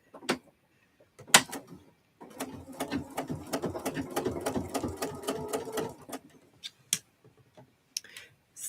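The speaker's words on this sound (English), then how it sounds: "Let me get this second one sewn" A sewing machine stitches in a steady run of rapid ticking needle strokes for a few seconds, bracketed by isolated clicks and taps from handling before and after.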